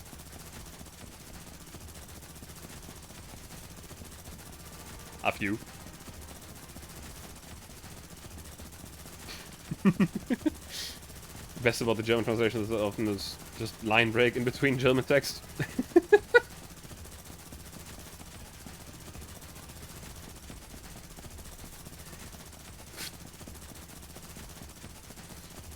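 Small consumer fireworks set off in Germany around New Year's, a faint isolated pop followed by a short burst of rapid crackling bangs a little way off, with a brief spoken remark over otherwise quiet background.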